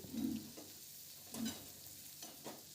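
Chickpeas tempering in hot oil in a home kitchen pan, giving a soft, steady sizzle with brief stirring scrapes and clinks, faint and close, with no talking.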